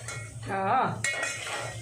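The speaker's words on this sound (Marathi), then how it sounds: "आता एकदम छान अशा पद्धतीने याला जरा फ्राय करून घ्यायचा. एकदम छान सगळं मिक्स करू द्यायचं सगळं एकमेकाला." Mutton biryani masala being fried and stirred in a pot: a metal spoon scrapes and clinks against the pot in a couple of close strokes, with a low hum in the background and no talk.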